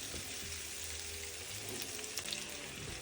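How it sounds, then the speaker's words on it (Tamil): Onions and garlic sautéing in a pan until golden for a drumstick curry, a steady, quiet sizzle and crackle close by with a few brief stirring clicks. "அதையும் சேர்த்து ஒரு பொன்னிறமாக இந்த வெங்காயம் வரும் வரைக்கும் நாங்கள் எல்லாத்தையும் வதக்கி எடுப்போம்."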